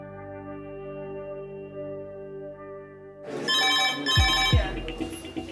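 A telephone rings with a steady electronic trill in a hospital emergency department, then gives way to louder busy room noise and thumps.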